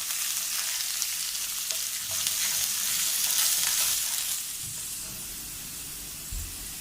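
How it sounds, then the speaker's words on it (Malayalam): Green chillies and curry leaves, with ginger and garlic, sauté in hot oil for a Malabar-style dates pickle, a close, steady frying hiss with occasional soft stirring scrapes, easing slightly toward the end. "പിന്നെ 2 പച്ചമുളക്, പിന്നെ കുറച്ച് കറിവേപ്പില. ഇത്രയും ചേർത്ത് നമുക്കൊന്ന് വഴറ്റിയെടുക്കാം."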